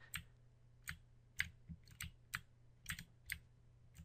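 Arrow keys on a computer keyboard are tapped a dozen or so times in an uneven rhythm while a program is tested. The clicks are sharp and close but quiet over a low steady hum.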